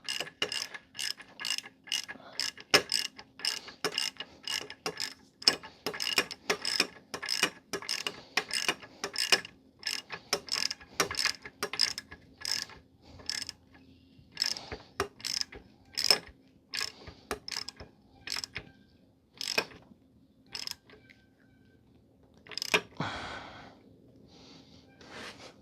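A ratchet wrench tightens bolts while a Dana 30 axle is being reassembled. Fast, close clicking bursts repeat in uneven runs, with short pauses and one louder rustle near the end.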